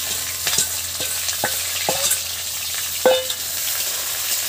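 Chopped onions fry in hot oil for a rui fish and cauliflower curry, giving a steady close sizzling hiss broken by several sharp clicks of stirring, with no voices.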